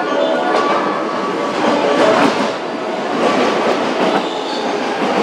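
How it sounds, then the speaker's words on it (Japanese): A JR West 321 series rapid train rolls into Osaka Station, a steady loud rumble of wheels and carriages with rail clatter filling the platform for several seconds, no voices over it. "電車入ります。 ご注意ください。"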